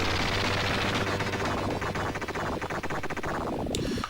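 Rapid weapon fire from the retro-style shooter video game Eliminate Down, a dense, loud stream of synthetic gunshots and blasts with no let-up, closing on a bright chiming game effect.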